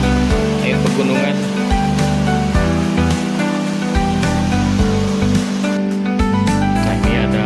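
Mountain river water flows steadily near a tea plantation on an alternative route to Ciwidey, a continuous broadband rush filling the scene without pause.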